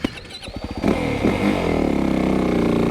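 A 2025 Yamaha YZ450FX dirt bike pulls away close by, its engine climbing steadily through the gears from second upward into a loud, sustained roar after a few short clattering bursts.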